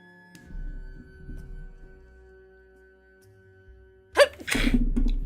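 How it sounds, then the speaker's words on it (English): A single sharp sneeze bursts out near the end after quiet, followed by a brief breathy exhale. "Sneeze."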